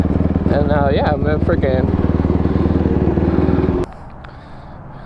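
A Yamaha YZ250 two-stroke dirt bike engine runs loud and close with a steady buzzing rhythm under a person's excited speech, then cuts out abruptly near the end, leaving quieter background noise.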